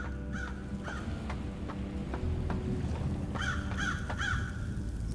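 A bird in a video game squawks in short repeated caws, several evenly spaced calls, then a quick cluster of louder ones over a constant low rumbling background.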